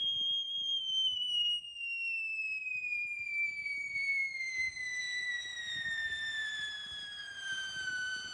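A three-stage nuclear reactor firework gives off a loud, continuous whistling shriek that slides steadily downward in pitch over several seconds, with a bed of crackling and hiss beneath it.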